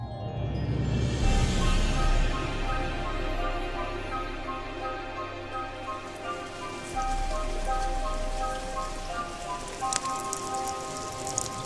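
Rain falls steadily on an outdoor surface, a continuous broadband patter that stays fairly even throughout with no voices.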